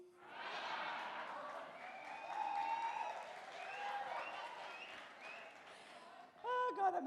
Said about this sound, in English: You may clap for that, but you may also clap because you might like my dress.